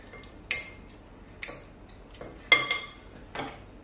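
Cookies being broken into pieces for homemade cookies and cream ice cream, a few crisp snaps spaced about a second apart, close and fairly quiet.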